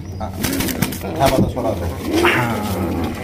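A pair of Golla pigeons cooing on a farm in short, low, throaty calls, heard close up beneath someone talking.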